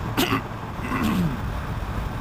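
A single short, raspy throat clearing up close, followed by a faint low grunt against quiet background hum.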